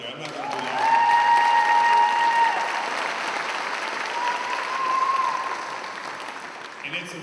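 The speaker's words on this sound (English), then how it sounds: "That's another applause right there." Audience applause at a nurse pinning ceremony for associate degree nursing graduates, a steady, moderately loud wash of clapping from a large crowd lasting several seconds, swelling and easing without speech.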